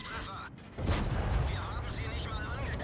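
A heavy tank cannon blast from a Progetto M35 mod.46 tank in a video game, on the Klippe map, booms out, followed by a sustained low rumble and mechanical noise, with a faint voice in the background.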